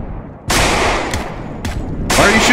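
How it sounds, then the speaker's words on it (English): Gunfire in the zombie video game Project Zomboid: three loud sharp bursts of shots in quick succession, each a broad crack with a short tail, with no voices. "Why are you shooting me?"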